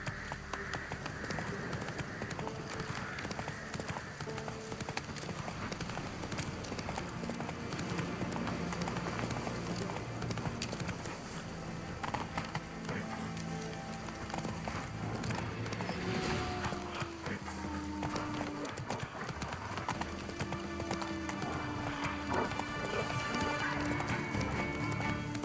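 Roach the horse galloping in The Witcher III, a steady run of hoof clip-clops with an occasional whinny, set under continuous game music and ambience.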